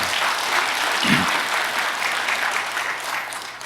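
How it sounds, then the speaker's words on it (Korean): A church congregation applauds at an early-morning service, a loud, even stretch of many hands clapping that carries steadily from start to finish, with a brief low thump near the middle. "다시 한번 여러분 박수 한번 해주시기 바랍니다"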